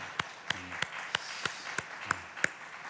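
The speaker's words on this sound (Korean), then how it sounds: "우리 하나님께 우리 박수로 한번 영광 돌립시다" A church congregation at an early-morning special prayer service claps in unison, sharp evenly spaced claps about three per second, moderately close and steady.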